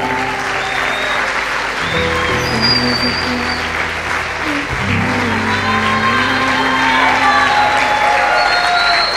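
An audience at a church harvest celebration claps for someone receiving a diploma, loud sustained applause with scattered whoops and cheers and some voices talking and calling out above it.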